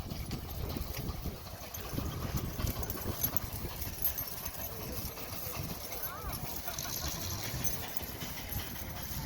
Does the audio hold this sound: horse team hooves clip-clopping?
yes